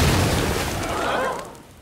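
An explosion in a cartoon about a school play, with a loud broadband blast that rumbles through its first second and a half, then fades off quickly.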